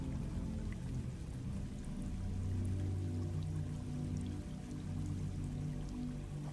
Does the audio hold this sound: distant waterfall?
yes